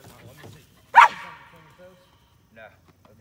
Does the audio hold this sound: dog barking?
yes